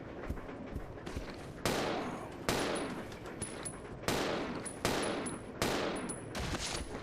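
Repeated gunshots from Rebecca Chambers' weapon in Resident Evil 0, about seven sharp reports fired in a steady rhythm, each with a bright crack and a decaying tail, standing alone with no talk.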